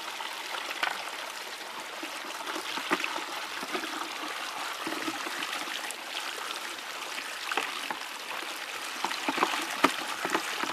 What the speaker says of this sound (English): Washing off the rocks pretty good.